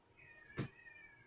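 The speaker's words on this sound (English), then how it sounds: "Oh, there's another cat outside this time." A single short cat meow comes from outside, faint and somewhat distant, standing alone against a quiet room with no talk.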